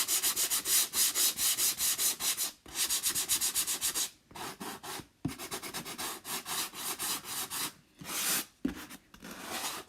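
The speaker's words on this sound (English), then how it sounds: "now we are gonna sand the lines, the corners." Sandpaper rubs along the lines and corners of a Chalk Couture board in quick back-and-forth strokes, close and fairly soft, grouped in rhythmic bursts separated by short pauses.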